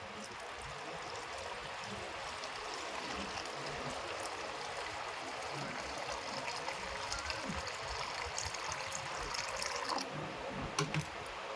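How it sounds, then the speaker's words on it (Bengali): Water pours steadily into a sattu drink being mixed in a home kitchen, a faint continuous trickling stream with a light splashing texture and a few small clinks near the end. "এই স্বাদ মতো জল দিচ্ছে"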